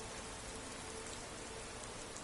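Steady, even rain from the video game Skyrim Anniversary Edition on PS5, a dense hiss of falling drops with no break and no voices.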